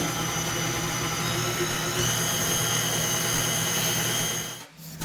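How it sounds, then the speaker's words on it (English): A stand mixer with a dough hook kneads donut dough at low-to-medium speed, giving a steady, continuous motor whir that holds constant and briefly dips near the end. "set it to low speed until it starts to come together and gradually increase it to about medium"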